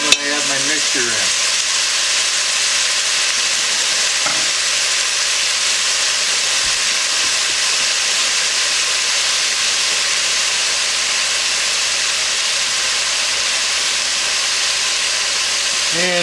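Chili mixture sizzling hard in a cast iron Dutch oven, a loud continuous hissing fry with occasional stirring clinks, steady throughout.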